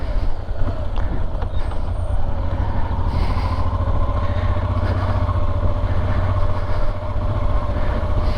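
A Honda Transalp XL600V motorcycle engine thrums steadily and loud while riding, a constant low rumble with wind noise over it.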